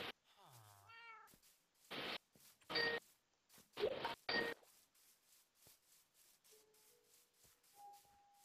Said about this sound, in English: The cat is over here.